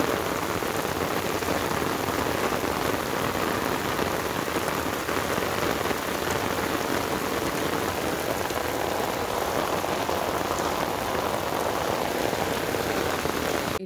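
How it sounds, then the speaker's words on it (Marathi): Heavy monsoon rain pours down in a dense, unbroken roar of drops striking surfaces, loud and constant throughout with no voices. "पाऊस बघा आता किती जोरात आहे"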